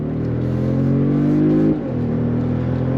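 Engine of a 2025 Mercedes-Benz G550 under throttle, a steady loud mid-pitched drone holding firm, dipping briefly for a shift, then pulling on again, close and without talk.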